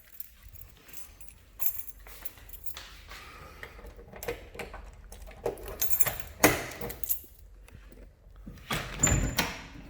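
A set of car keys for a 1966 Rambler Rebel jangling in short, close metallic bursts, with clicks and handling noises between them and little talk.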